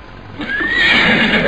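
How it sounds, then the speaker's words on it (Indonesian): A horse whinnies loudly and close, a rising drawn-out neigh that swells and holds for about a second, with no voices over it. "Si Wulung memang kuda yang baik dan setia, Kek."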